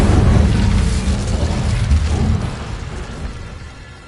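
Incendio fire spell cast in Hogwarts Legacy, a loud low whooshing burst of flame that rumbles and then slowly fades away.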